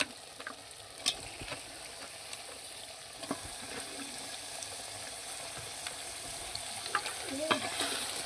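Chicken meat frying with chopped tomato in a pan, a quiet steady sizzle with occasional stirring scrapes and clinks throughout.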